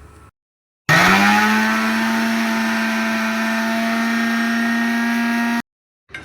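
A mixer grinder grinding onion into paste starts abruptly with a loud, high motor whine, runs steadily for about five seconds, then cuts off.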